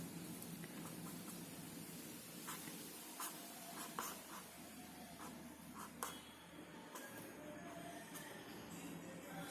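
Pen scratching on paper while a chemical structure is drawn by hand, faint intermittent strokes over a steady hiss of background noise, close and quiet, with no talking.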